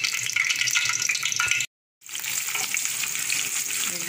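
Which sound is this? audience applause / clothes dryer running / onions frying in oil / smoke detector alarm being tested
onions frying in oil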